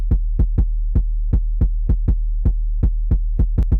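A Jersey Club bass line, normalized and stretched, faded in, with a steady run of deep, punchy thumps over a constant low sub-bass drone, loud and upfront with no voices.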